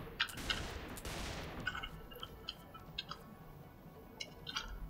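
Rapid bursts of gunfire in Saints Row 4 crackle loudly at first, then thin out into scattered sharp shots and ticks over a low rumbling bed.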